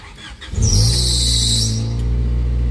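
A Honda car engine cranks briefly and fires up after an ignition switch replacement, then settles into a loud, steady idle with a high squeal from a worn fan belt, recorded close by.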